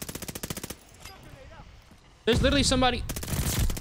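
Rapid assault rifle fire from Call of Duty Vanguard, a close burst of quick evenly spaced shots at the start and another sustained burst near the end, with someone talking between and over them.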